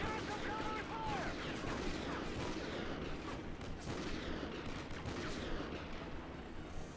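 Heavy gunfire in the Call of Duty Ghosts game, sustained crackling rifle and machine-gun shots with booming blasts layered over a loud battle din, while soldiers shout over it.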